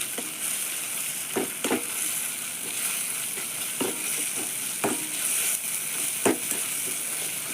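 Tomatoes and shallots sautéing in a pan for a tomato chutney, a steady soft sizzle broken by several sharp spatula clacks and stirring scrapes at irregular intervals, close and without talk.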